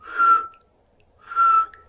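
A person whistles two short steady notes as an embouchure exercise, each about half a second long, close and clear with a pause between.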